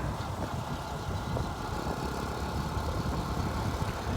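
A motorcycle engine drones steadily while riding along the road to Nainital in the hills, mixed with constant wind and road rumble and no voices.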